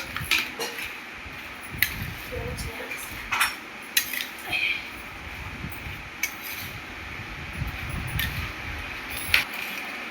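A utensil stirs homemade traditional mango pickle in a metal pot, with scattered clinks and scrapes against the sides over a quiet background.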